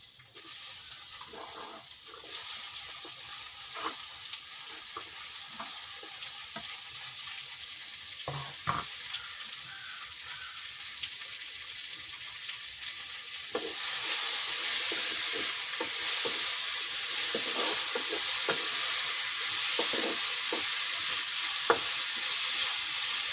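Chopped ivy gourd sizzles and is stirred with golden-fried onions in a hot pan, a steady frying hiss with scattered scraping stir strokes that grows louder and brighter midway through, with no talking.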